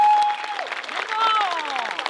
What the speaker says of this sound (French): Ceux qui votent pour les rouges, applaudissez maintenant